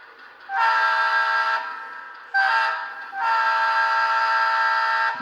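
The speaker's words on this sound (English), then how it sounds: "this is, I think, a TCS version 3 diesel with iPhone speaker" A model diesel locomotive with a TCS version 3 sound decoder plays its horn through a small iPhone-style speaker: three close, loud, steady blasts, long, short, then long, with no voices.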